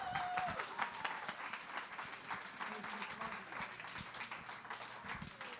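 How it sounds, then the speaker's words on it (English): Audience applause after an evening talk, a continuous wash of many hands clapping at moderate level with some crowd noise and faint voices mixed in. "Keep that applause going."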